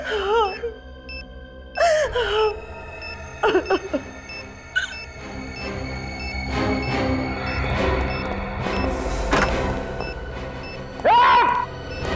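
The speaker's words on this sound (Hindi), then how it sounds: "रोने की आवाज?" Someone wails and moans in a crime drama scene, with repeated rising cries and gasps set against eerie, tense music and a few sharp crashes.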